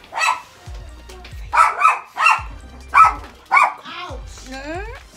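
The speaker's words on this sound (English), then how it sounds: "I hear Anna barking, so she probably upstairs" A dog barks several times in a row from inside a house, the barks fairly close and spaced with short gaps, followed by a higher whining yelp at the end.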